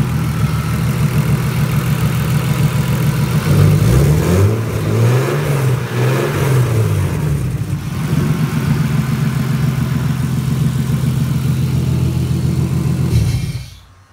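A turbocharged S52 engine in a right-hand-drive BMW E30 touring runs at a steady, smooth idle with a low rumble and a brief blip of revs partway through, then cuts off abruptly.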